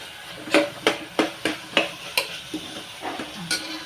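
A spoon scrapes and stirs fenugreek leaf curry frying in a pan, with about a dozen rhythmic strokes at a steady pace over a soft sizzle, close up and with no talk.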